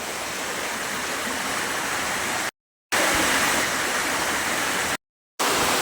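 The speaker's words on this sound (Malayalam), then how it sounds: "ഈ വെള്ളം വരുന്നത് ഇതിൻ്റെ അടിയിൽ കൂടെയാണ്" Water flows beneath a large rock with a steady, loud rushing like a small stream, broken by two short gaps of silence.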